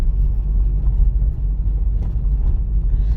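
Car driving on a road during a driving exam, heard from inside as a steady low engine and road rumble at a constant level, with no talk.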